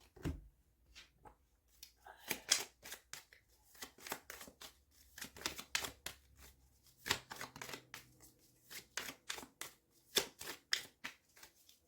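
Tarot cards are shuffled by hand in quick, crisp riffling bursts with short pauses, close by and fairly faint, with no talking over them.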